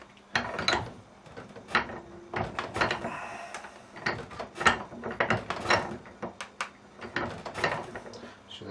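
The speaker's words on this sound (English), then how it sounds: "generally on the first rivet, because that's the opening bit, I don't press that quite so tight" Rivets are pressed into a Kydex sheath made for a parang knife, producing a series of sharp mechanical clicks and clacks in an uneven rhythm, close and fairly loud, with brief pauses between the presses.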